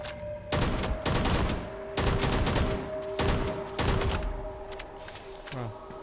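Gunshots fired at a character in Starfield, several sharp bursts in quick clusters at a steady pace over a faint ambient game hum, with a brief electronic chirp near the end.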